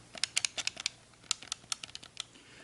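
Quick bursts of keystrokes on a mechanical keyboard with tactile switches, close and crisp, clustered in short irregular runs with brief pauses between.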